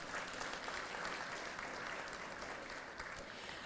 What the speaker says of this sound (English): Can you please give them both a round of applause?